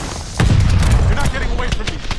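A grenade goes off in a Call of Duty: Vanguard firefight with a loud, close boom, and rapid gunfire crackles after it while game voices speak over the noise.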